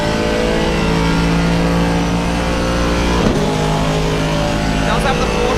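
The Aston Martin race car engine in Assetto Corsa Competizione drones loudly and steadily at Silverstone, a sustained high-revving tone that shifts pitch slightly, with someone commentating over it.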